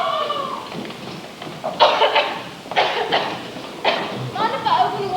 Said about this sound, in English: Nasty cough you got there.